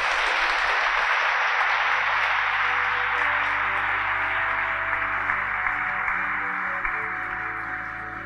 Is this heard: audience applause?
yes